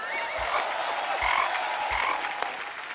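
Frog croaks used as a comedic sound effect on a Hindi comedy show, three deep, loud croaks spaced about a second apart over a busy background hum, with no talking.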